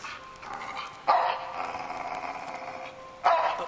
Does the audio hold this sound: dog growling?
yes